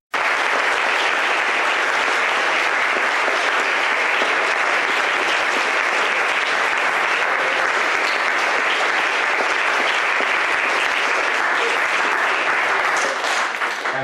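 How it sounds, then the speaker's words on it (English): A large audience at a Cambridge Q&A session with Peter Singer breaks into sustained applause, a loud, dense, even roar of clapping that starts abruptly and holds steady for about fourteen seconds. "I think we should give Peter Singer a big round of applause."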